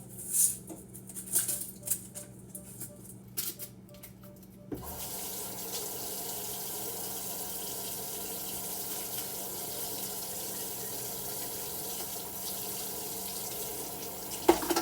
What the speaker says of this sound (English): I have a habit of rinsing everything. Onion.